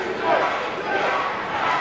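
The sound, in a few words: wrestling crowd screaming and yelling for Jimmy Wood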